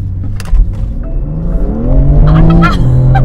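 A BMW M4 Competition accelerating hard, the engine climbing loud and close with a rising, revving tone, then a squeal of tires as it brakes. No one talks over it.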